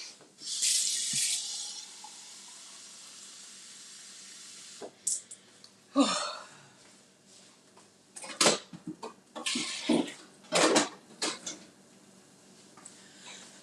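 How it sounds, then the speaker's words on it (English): Tap water runs and splashes as a Keurig coffee maker's reservoir is filled, a steady hiss at first, then quieter, with several sloshing bursts and clunks toward the end. "I'm going to put some water in my Keurig because it's always empty."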